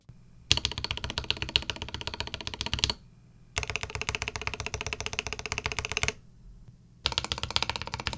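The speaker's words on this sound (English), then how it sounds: "the stabilizers on this keyboard are actually top notch" Rapid typing on a Keydous NJ81 mechanical keyboard with factory-lubed plate-mount stabilizers, a dense close-up clatter of keystrokes in three bursts separated by brief pauses.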